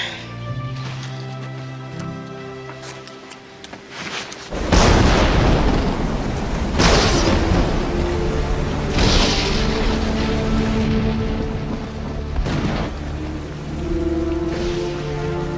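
Heavy rain pours steadily while deep thunder rumbles and booms several times, loud and close, with a low hum early on.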